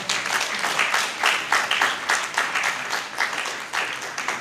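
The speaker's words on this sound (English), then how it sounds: "A round of applause." Audience applause at a book launch for an author, steady dense clapping from a crowd filling the whole stretch, fairly loud and close, with no talking over it.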